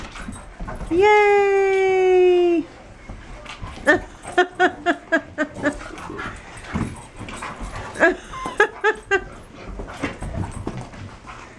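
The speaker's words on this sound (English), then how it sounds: "the puppy cousins are reunited" Reunited puppies give a long high whimper early on, then a run of sharp yips and short whines, close and loud, with a person briefly cheering among them.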